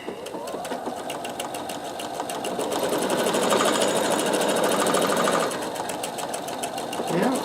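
A Pfaff Creative Vision sewing machine stitches an automatic buttonhole, giving a steady fast rapid-fire mechanical whir and tapping that runs throughout, with a brief spoken word near the end.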